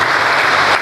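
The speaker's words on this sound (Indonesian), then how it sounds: "Kita berikan tepuk tangan untuk kedua pengantin." Guests at a traditional Batak wedding ceremony give the bride and groom a brief burst of dense, steady applause.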